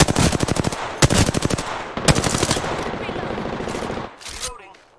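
Rapid machine-gun bursts in a military video game, loud and close, firing in several clustered volleys with short pauses between them, then tapering into a fading tail.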